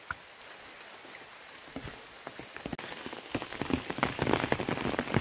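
Continuous heavy rain in the mountains patters densely on surfaces close by, with countless fine drop hits that build steadily louder toward the end, and no talking.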